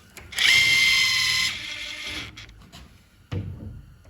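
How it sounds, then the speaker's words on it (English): A power drill pre-drills screw holes through a doorknob installation jig. It runs as one loud, close whine for about a second, then winds down, followed by a short clunk. "these holes are when you put the screw in, it pre-drills for that"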